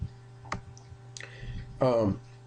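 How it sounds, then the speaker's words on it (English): A computer mouse clicks a few times, sharp and close, during CNC plasma cutting software work, with a short burst of speech near the end. "we can click and drag with the mouse"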